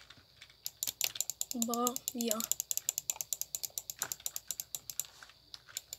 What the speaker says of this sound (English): don't mind my mouse, it's pretty loud